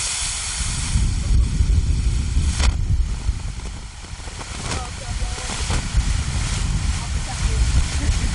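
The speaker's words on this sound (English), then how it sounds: "That wind is blowing pretty good right now." Wind blows outdoors at a green smoke firework, making a loud, constant low rumble and buffeting across the microphone, with a person talking over it.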